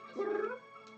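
A single short, faint cat meow sounds close by in a quiet room, with a soft trailing whine afterward.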